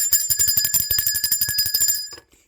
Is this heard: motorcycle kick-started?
no